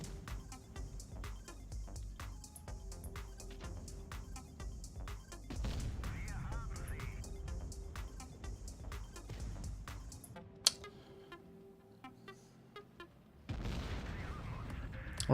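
Rapid bursts of gunfire crack through a tank battle in the World of Tanks Blitz–style Blitz Masters grand final, sharp repeated shots over a steady engine hum, with a louder blast near the end.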